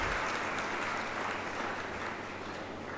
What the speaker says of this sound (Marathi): सर्वजण टाळ्या वाजवून याचं स्वागत करा.